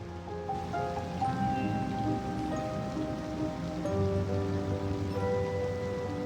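Steady rain in Cities: Skylines 2 patters evenly on surfaces, a constant hiss with a few soft tonal notes of music drifting over it.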